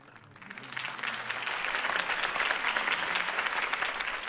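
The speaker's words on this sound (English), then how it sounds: "could have heard that applause" Crowd applause in the Batman Telltale Series video game after Harvey Dent's campaign speech, swelling in from a faint start into loud, sustained clapping.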